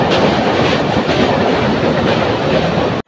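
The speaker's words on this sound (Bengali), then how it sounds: "দেখতে দেখতে আমাদের ট্রেন ভুবনেশ্বর থেকে ছেড়ে দিয়েছে" A train pulling out of Bhubaneswar station rumbles loudly from close by, a dense steady roar of wheels with a faint clickety-clack rhythm over the rails, cutting off abruptly at the end.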